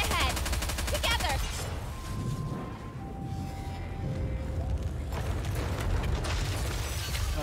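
Dense gunfire from the video game Nikke: Goddess of Victory, continuous rapid bursts and crackling shots filling the whole stretch, loud and close, with a voice speaking over the firing.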